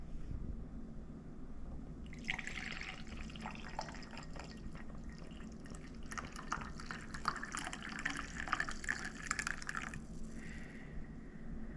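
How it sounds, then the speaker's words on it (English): Coffee poured into a cup after straining, a steady liquid trickle and splash lasting several seconds, close and fairly quiet, with faint drips at the end and no talk. "and we will pour ourselves some coffee."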